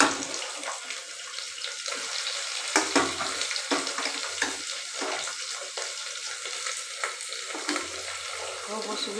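Tender meat sizzles and fries in a pan of sautéed onions, a steady hissing crackle with occasional stirring clatters and scrapes throughout.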